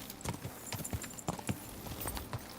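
Horse hooves clip-clop in a steady walking rhythm in Kingdom Come: Deliverance 2, a medieval role-playing game, with the sharp hoofbeats moderately close over a soft outdoor background.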